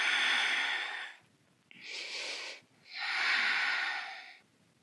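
Deep breaths during a core-strengthening exercise: three long, loud, close airy breaths, alternating inhale and exhale with short pauses between.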